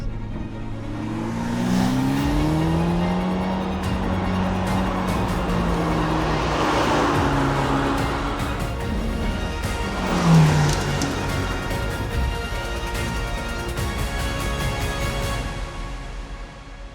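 A Ferrari 849 Testarossa Spider is driven on roads in Tenerife, its engine note rising and falling through repeated accelerations and gear changes, loud and near throughout, with some tyre noise.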